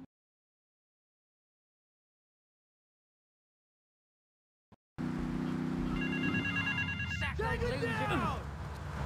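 A payphone rings in the video game GTA III, a repeated electronic telephone bell heard over game sounds after several seconds of silence, with a short clip of speech nearby.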